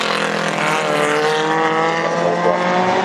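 A historic Grand Prix Formula 1 race car with a 2-litre engine roars past at the Goodwood Madgwick Cup, its loud engine note holding steady and then shifting slightly in pitch as it goes by, with no talk over it.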